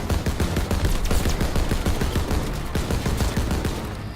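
Bursts of rapid gunfire in the World War II shooter Call of Duty WW2, with dense, loud overlapping shots and automatic fire running throughout, no voices audible over the shooting.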